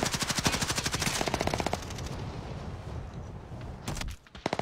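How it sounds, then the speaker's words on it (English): Rapid gunfire from a video game shooter, with a fast train of sharp, loud shots in the opening seconds, then a muffled stretch and a few more quick bursts at the end, no talk. "I'm gonna try practicing with the sniper."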